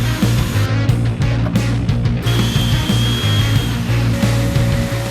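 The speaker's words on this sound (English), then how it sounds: "Now I'll drill in the holes through the box or the handle." Continuous loud mechanical whirring of a power drill running steadily, with bursts of grinding as it bites into wood while drilling holes, close up.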